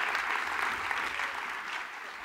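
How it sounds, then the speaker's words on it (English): Audience applause at a business improvisation talk, a steady dense wash of clapping across the whole stretch, fairly even in level and without voices on top. "give them a big round of applause"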